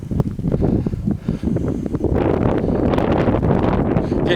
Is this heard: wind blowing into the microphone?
yes